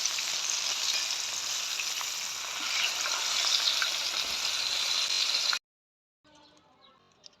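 Seasoned tilapia fish frying in hot oil on high heat, a loud, steady crackling sizzle that runs unbroken for several seconds, then cuts off abruptly into near silence with faint clatter.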